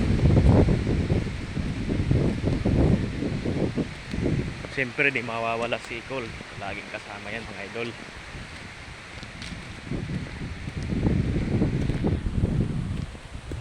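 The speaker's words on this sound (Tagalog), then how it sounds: "Buti na lang mga idol, hangin lang, walang kasamang ulan, no?" Gusty wind during Typhoon Opong with no rain, rough low rumbling buffets on the microphone that swell at the start and end, while someone talks through the middle.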